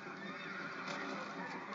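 A horse in the video game Red Dead Redemption gives a loud, continuous neigh lasting under two seconds, with hooves faintly clopping beneath it.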